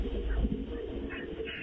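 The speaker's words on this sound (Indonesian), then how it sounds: "Ada suara burung." Birds call faintly in a hospital at night, soft chirps rising above a low steady background hum with no talking.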